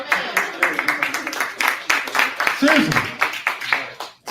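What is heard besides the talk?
audience applause and clapping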